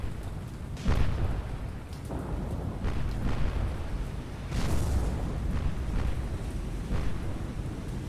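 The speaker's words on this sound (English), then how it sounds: "South Dakota was just hit by 2 torpedoes." Torpedo explosions striking a battleship in the naval video game War on the Sea, heard as deep rumbling booms with several bursts over a sustained roar, loud and close with no talking.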